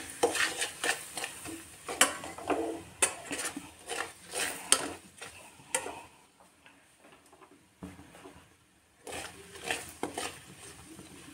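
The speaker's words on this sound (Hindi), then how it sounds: "सरसों का तेल ऐड किया है मैंने और मैं मसाले को फ्राई करूँगी" Spices frying in mustard oil for a mild carrot pickle, a soft sizzle beneath repeated spoon scrapes and clatter against the pan, pausing into near silence for a few seconds before stirring resumes, no one speaking.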